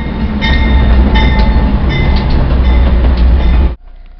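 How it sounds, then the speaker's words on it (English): A loud, steady rumble of a train arriving at a station with a metallic whine, cutting off abruptly near the end. "It's 5:17, the train has finally arrived."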